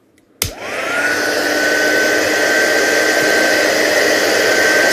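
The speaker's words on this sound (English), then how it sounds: "And I'll just bring up the heat gun, and then we'll get this lovely shine on our character now." A heat gun switches on with a sharp click and settles into a loud, steady blowing roar of hot air with a rising whine, continuous and close.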